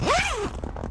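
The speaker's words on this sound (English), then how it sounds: "You just open the zipper" A single quick zip rasps open on the fabric door of a SuperATV Primal soft cab enclosure on an ATV, close and loud, rising then sliding down in about half a second, followed by faint rustling.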